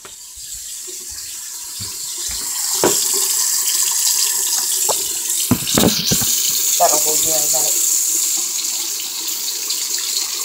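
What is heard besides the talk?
water running from a tap while waiting for it to warm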